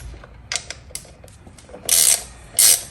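A ratchet with a 10mm socket loosens a bolt on a 2009-16 Suzuki GSXR 1000 during a coolant change, giving a few short clicks and then two louder bursts of rapid ratcheting, close up.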